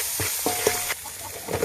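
Cumin powder, chili powder, salt and oil are stirred together in a frying pan, producing close scraping stirs over a steady sizzle in a brief burst without talking.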